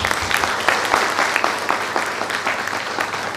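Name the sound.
audience applause at awards ceremony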